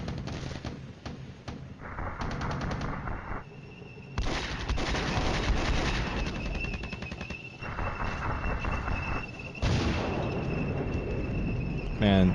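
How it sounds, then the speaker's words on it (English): Artillery fire in the Cold War wargame Flashpoint Campaigns: dense, continuous booming and crackling bursts that swell and drop in loud blocks, with a thin high background trill running through. "Man, that artillery is like hateful right there."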